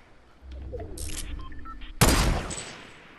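Sniper rifle fire in Fortnite: a sharp, loud single report at the midpoint with a decaying tail, preceded by quieter game noise and a few smaller bursts.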